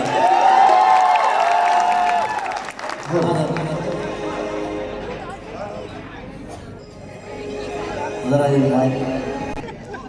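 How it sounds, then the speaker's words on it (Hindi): An audience applauds at a college final-year farewell function after a qawwali performance, steady crowd clapping with some cheering, mixed under music and a voice talking over a PA. "इनके लिए बहुत सारे तालियां मिलेंगे"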